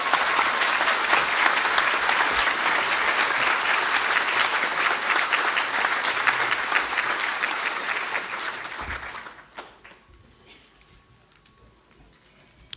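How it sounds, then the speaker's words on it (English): Graduates at a university conferring ceremony receive a loud, sustained round of applause from a large audience, which fades away after about nine seconds into quiet hall ambience. "to please stand for a well-deserved round of applause"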